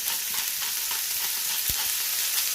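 Burger patties fry in a hot pan with a loud, continuous, crackling sizzle and one sharp tap partway through.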